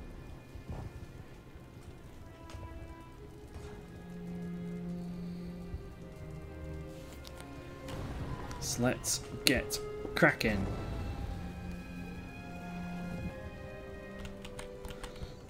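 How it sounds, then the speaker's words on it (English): Steady rain patters across a battlefield in the strategy game Empire: Total War, a constant wash beneath continuous talking, with a few sharper, louder bursts in the middle. "Oh, and it's raining."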